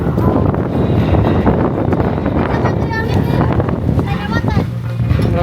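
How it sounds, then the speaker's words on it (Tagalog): Strong gusty wind buffets the microphone at an outdoor town fiesta in Macabalan, making a loud, continuous roar, with people talking over it throughout. "Grabe ka hangin kusog kayo."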